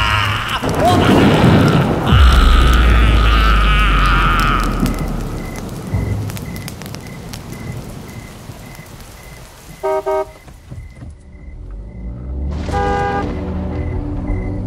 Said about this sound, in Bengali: রবিন আর মাধব লাশ গাড়ি নিয়ে দেবীতলার শ্মশানে উপস্থিত হলো।